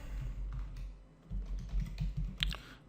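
Typing on a computer keyboard while writing a PHP and MySQL login script, a quick run of close, light key taps in uneven clusters with no talking.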